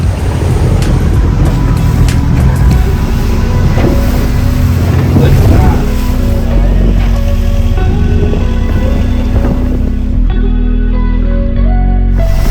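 A loud long-tail boat engine drones steadily on the Chao Phraya River in Bangkok, with wind buffeting the microphone and water noise, continuous throughout.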